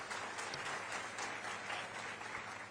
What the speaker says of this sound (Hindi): सबके लिए जोरदार तालियां बनती है